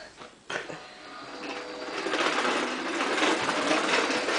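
A vacuum cleaner runs indoors with a steady, rising whir that begins after a brief bump and holds loud and even to the end.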